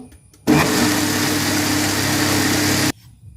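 A kitchen mixer grinder whirs loudly and steadily for about two and a half seconds, starting and stopping abruptly, with quiet room sound before and after.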